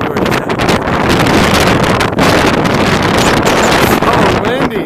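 Strong wind on a rooftop roars and buffets the microphone in loud, continuous gusts that nearly swamp everything else.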